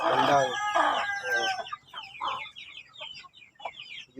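Native chicken roosters clucking and crowing at close range, loud bursts at the start giving way to a run of shorter, fainter clucks and calls, with no talk.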